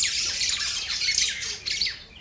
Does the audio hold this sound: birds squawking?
yes